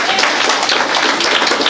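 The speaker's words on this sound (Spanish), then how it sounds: "Vamos a aplaudir, hermanos." Church congregation at a child's presentation service in Saquisilí clapping together in broad, dense applause that fills the whole moment, steady and close, with some voices mixed in.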